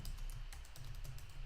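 Steady keyboard typing as a message is entered into a website chat box, with rapid continuous key clicks at a constant moderate level and no speech.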